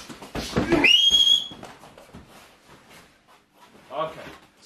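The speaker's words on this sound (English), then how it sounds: "Whenever that whistle goes, it goes now." A sharp whistle blast during gun dog training sounds close and loud, a single rising shrill tone followed by rustling, panting and brief talk.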